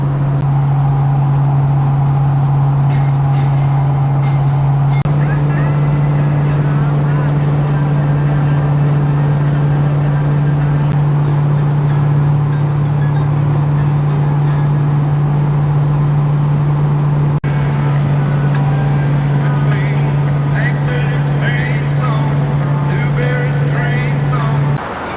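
A 32-year-old Ford Mustang cruises on cruise control, its engine a steady, constant drone inside the cabin with road noise, while people talk intermittently over it.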